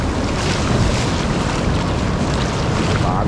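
Ocean waves break and wash up on a sandy beach at Praia das Toninhas in Ubatuba, making a loud, continuous roar of surf with wind buffeting the microphone throughout.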